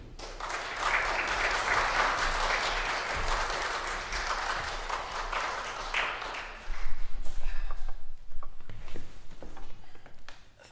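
A concert audience applauding a solo guitarist, sustained full-room clapping that thins out into scattered claps and footsteps near the end.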